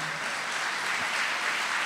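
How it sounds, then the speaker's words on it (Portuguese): A church audience applauds, a short burst of steady, moderately distant clapping. "Vamos aplaudir"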